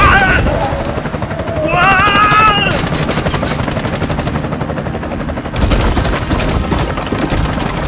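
Heavy automatic gunfire rattles at a helicopter in the Bright Memory Infinite video game, with sustained loud bursts over the thumping rotor and shrill tonal effects, a voice briefly speaking over the clamor.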